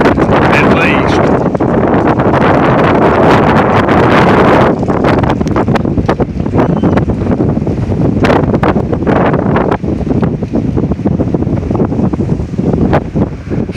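Strong wind gusts of about 60 mph roar during a windstorm in Howard, Kansas, heavy buffeting against the microphone, loud and continuous with sharp crackling bursts throughout.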